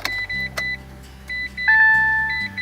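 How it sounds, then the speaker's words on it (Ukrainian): A 2018 Citroen C-Zero electric car with a broken cooling fan is switched on, giving a few electronic chimes and beeps over a low steady hum, with a short motor whir in the middle, close and moderately loud. "йдемо запускати наш автомобіль"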